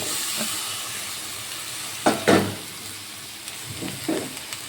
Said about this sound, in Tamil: இந்த ஸ்டேஜில் நம்ம கோவக்காய் ஆட் பண்ணிக்கலாம்